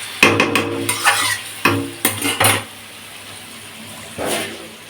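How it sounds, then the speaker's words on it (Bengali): A spoon scrapes and clatters in a frying pan as onions and lote fish (Bombay duck) are stirred together, in several short, close bursts of scraping followed by a quieter pause. "এবার দিয়ে একটু নাড়াচাড়া করে ঢেকে দেবো।"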